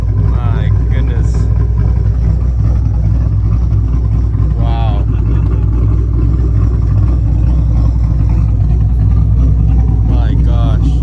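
A Mazda fitted with an LS V8 idles with a deep, steady low rumble close by at an outdoor car meet, while people talk and exclaim over it.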